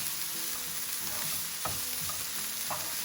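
Spinach and parsley are stirred into an omelette mixture in a pan, a soft continuous sizzle with a few quiet scrapes of the utensil, faint and close.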